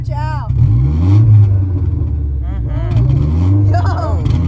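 A Saab C900 Turbo, parked two years, revved repeatedly: three loud surging rises in engine pitch that fall back to a rough idle, close by with some talk mixed in.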